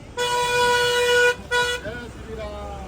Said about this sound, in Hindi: संडे में यहाँ पे बहुत ज़्यादा ट्रैफिक भी हो जाता है।